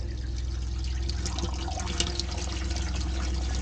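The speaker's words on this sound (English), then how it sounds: "Turn on our hot water." Steady rushing of water running from a hot water tap in a boat's fresh water system, a continuous broadband hiss with low gurgling underneath and a few faint clinks.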